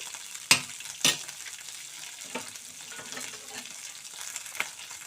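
Green chillies fry gently in oil over a low flame, giving a steady soft sizzle with two sharp stirring clicks early on and a few lighter taps later.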